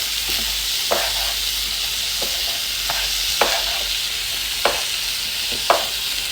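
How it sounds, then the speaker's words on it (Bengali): Khichuri ingredients fry in a pan with a constant bright sizzle, punctuated every second or so by sharp scrapes and knocks of the stirring spoon, close and without talk. "এখন হচ্ছে একটু করে ভেজে নিব এটা।"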